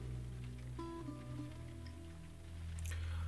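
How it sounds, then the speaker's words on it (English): Rain falling outside in The Last of Us Remastered, a faint, steady wash of patter under a low ambient hum, heard from indoors with no speech. "Oh, it's probably raining out."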